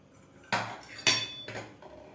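The lid of a cooled pressure cooker holding wheat kheer is opened, giving a few sharp metallic clanks and clinks about half a second apart, close and fairly loud against a quiet background.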